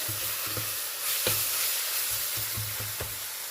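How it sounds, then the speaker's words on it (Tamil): Masala curry for Chettinad vada curry is stirred in a pan, with soft scraping strokes at an irregular pace over a low sizzle, close and fairly quiet. "நல்லா மிக்ஸ் பண்ணிக்கலாம்."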